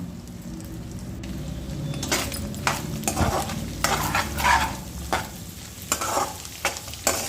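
Egg fries and is broken up for egg fried rice, a spatula scraping and stirring through a steady sizzle, with bursts of scraping growing busier toward the end, close by and without talking.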